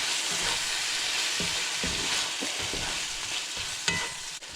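White wine is stirred into a seafood cream sauce in a pan, with a continuous close frying sizzle and intermittent scraping knocks of a utensil against the pan.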